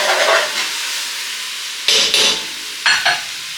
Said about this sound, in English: Okay, let's throw the shrimp in now. Throwing the shrimp in. Stir it around.